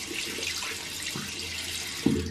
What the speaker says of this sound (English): So I'm going to quickly rinse off and see where we are with it.